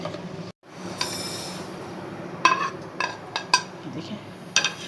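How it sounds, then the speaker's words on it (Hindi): Whole fennel, coriander, mustard, fenugreek and nigella seeds roast in a pan for mango pickle, heard as a low crackle with several sharp clinks and scrapes of a spoon against the metal. "हम इसे थोड़ा सा भूनेंगे।"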